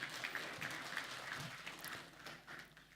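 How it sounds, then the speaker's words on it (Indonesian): Audience applause at a public debate between regional head candidates in North Minahasa, Indonesia, a quiet, steady patter of many hands clapping at a distance for about three seconds, with no talk over it. "Minta tepuk tangan sekali lagi untuk para panelis kita."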